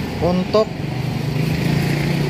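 A two-stroke Yamaha RX King motorcycle from 1998 with a straight exhaust idles steadily close by. Its low buzzing drone runs through the whole moment beneath a brief spoken word at the start.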